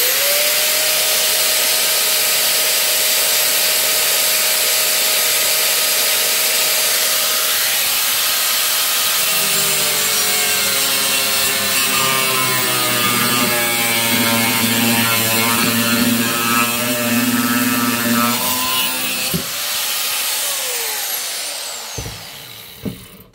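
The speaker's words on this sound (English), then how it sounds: "Now watch as I turn the angle grinder on" A 720 watt angle grinder running off a portable power station whines loud and steady, its pitch sagging and wavering as it cuts, then winding down at the end.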